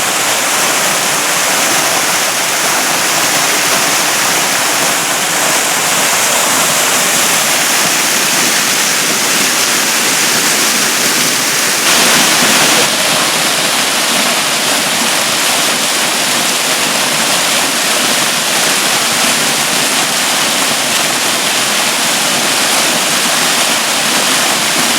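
A river flows over rocks in a drought, a loud steady rushing wash of water that continues without break, close by and with no talking.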